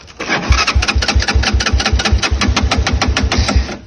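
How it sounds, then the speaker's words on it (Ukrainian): A moped's small engine runs steadily up close, with a rapid, even putter throughout and loud pulsing exhaust. "Мопед."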